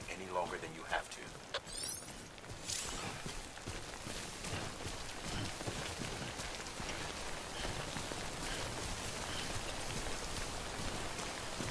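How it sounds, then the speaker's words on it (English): Timefall rain in the video game Death Stranding falls as a soft, steady patter of drops throughout, fairly quiet and even, with a few brief tonal game sounds early on. "Don't stay out in the rain any longer than you have to."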